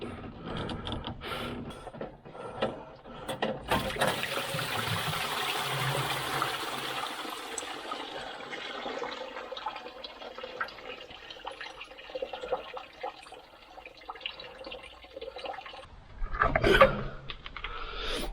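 Rusty water drains from the cooling system of a Morris Minor, a steady splashing trickle with clanking mechanical handling, fairly close, ending in a louder burst near the end.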